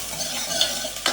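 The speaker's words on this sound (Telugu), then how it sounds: "ఆయిల్ మంచిగా వేడెక్కింది. వెల్లుల్లిపాయలు, అల్లం, లైట్గా పచ్చిమిర్చి," Garlic, ginger, green chili and onion frying in hot oil, heard as a close, steady sizzle with quick scraping stir strokes over a brief moment.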